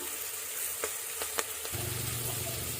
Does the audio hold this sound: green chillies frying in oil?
yes